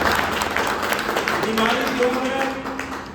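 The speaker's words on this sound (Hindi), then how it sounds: "श्री चंद्रशेखर चाचा जी के लिए मैं चाहूंगा जोरदार ताली बजाएगा" Crowd applause at a party gathering for an elderly treasurer, Shri Chandrashekhar; dense clapping from many people fills the room while a voice carries on over it and faint tonal sounds drift through.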